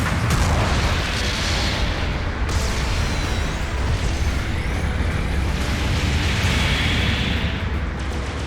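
A mobile suit blows apart in the battle game Gundam Battle Operation 2, heavy booming blasts and rumbling explosions rolling continuously and loudly with crackling debris.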